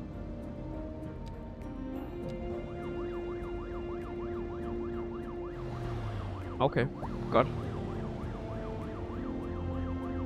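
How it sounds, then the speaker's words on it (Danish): A police car siren wails in a steady rising and falling pattern in the city-building video game CitySky, set against busy city traffic and engine hum, with someone speaking briefly over it. "Har vi en politibil på vej,"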